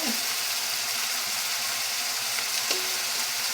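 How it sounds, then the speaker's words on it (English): Ground beef browns in a hot pan for lasagne, giving a steady, loud, close sizzle of fat frying. A couple of faint clinks sit beneath the sizzle, and no one speaks. "So we're almost done browning our meat."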